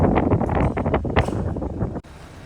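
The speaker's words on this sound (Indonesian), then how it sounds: "Angin kencang." Strong wind buffets the microphone outdoors in a rough, low, gusting roar for about two seconds, then cuts off abruptly to near quiet.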